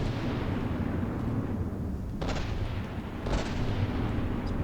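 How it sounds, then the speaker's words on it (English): A video-game explosion rumbles on a large warship, with dull booming bursts over a constant loud, dense roar of battle noise, and no voices. "there went an explosion on the Big Cheap"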